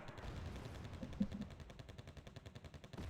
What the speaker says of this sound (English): Super M60 firing at the vehicles.